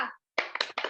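A class of pupils does the PPK clap routine, a rhythmic patterned clapping chant; after a short pause, a few sharp, close claps come in quick bursts.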